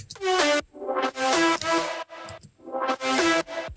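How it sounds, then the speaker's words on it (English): A single sampled lead note soaked in reverb and played backwards, swelling up from nothing into a bright, tonal peak that cuts off abruptly, repeated in about four rising swells with brief gaps between them. "sampling one note of it and then adding some reverb, and then I reversed it as this like little thing"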